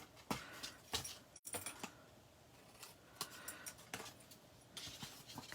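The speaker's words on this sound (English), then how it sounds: "Then we're going to snip up to the first score line, snip up to the first score line, making a tab." Scissors snip paper up to a score line while crafting a card and treat box, a series of short, sharp crisp cuts at irregular intervals, close and fairly quiet.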